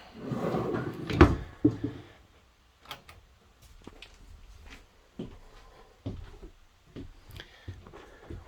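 A large pots and pans drawer in a 2021 Kodiak 332BHSL RV slides and thumps shut with a loud clunk, followed by several quieter clicks and knocks of the drawer hardware, nearby with no talk.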